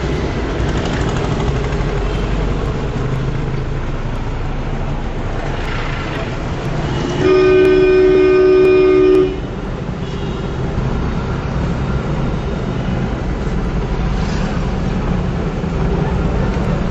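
A train horn sounds at a railway station in Dehradun: one loud, steady blast of about two seconds that rises above a continuous rumble of passing road traffic.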